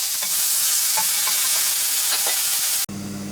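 Chinese meatballs sizzle steadily in a hot wok, a dense crackling hiss with a few soft stirring knocks, ending abruptly at close range with a quieter hum.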